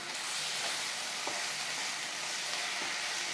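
Tomatoes sauté in a hot pan with a steady, dense sizzle that carries through evenly, a few faint stirring scrapes surfacing now and then, close and continuous with no voices.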